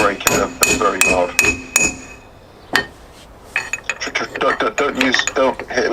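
Hammer striking a car brake pad, a run of sharp metallic clanks that ring briefly, then a pause, then a denser clatter of hits and rattles, loud and close, with no talking.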